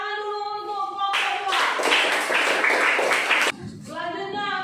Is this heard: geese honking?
no